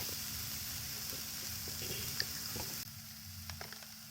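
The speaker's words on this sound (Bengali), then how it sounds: "নারকেল ভাজা হচ্ছে" Grated coconut frying with sugar in a pan for Poush Parbon pithe gives off a soft, steady sizzle that stays faint and close, with a few light scrapes and no talking.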